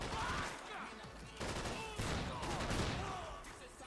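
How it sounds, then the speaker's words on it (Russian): A powerful shotgun firing in the video game Max Payne 3, a few heavy booming blasts amid loud gunfire and action noise, with no clear talking. "мощный дробовик"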